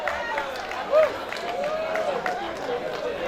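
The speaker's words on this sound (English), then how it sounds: "A big round of applause to Mr." A round of applause for a keynote speaker at a Sierra Leonean community party, a steady wash of clapping from a crowd, moderately distant, with murmuring voices under it.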